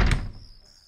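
A school staff-room door being tried while locked, producing a single near, solid knock-and-thunk impact that fades quickly into quiet.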